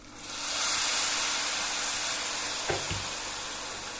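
Hot water from a kettle is poured into a pot of seasoned rice with vermicelli, giving a loud, continuous hissing sizzle and steam rush close by, with a brief clunk partway through.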